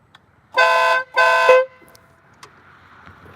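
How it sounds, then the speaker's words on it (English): Two loud, sustained blasts from a Custom Dynamics Pro Beast air horn on a motorcycle at the Sturgis 81st motorcycle rally in 2021, each about half a second long and nearly back to back, then quiet street ambience. "Custom Dynamics Pro Beast air horn, by the way."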